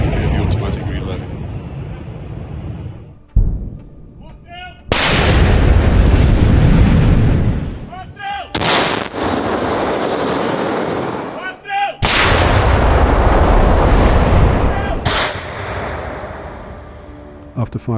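Ukrainian tank main gun firing shells in a forest, with very loud, sharp cracking blasts followed by long rumbling echoes, several rounds in succession at close range, with the automatic reloader working between shots.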